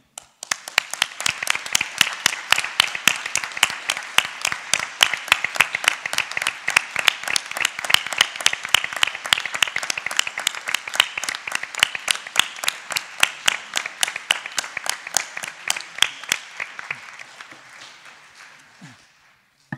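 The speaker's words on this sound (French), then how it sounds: "Je crois qu'on peut l'applaudir" A municipal council applauds the former mayor with long, rhythmic unison clapping, steady and brisk for many seconds before tapering off to silence near the end.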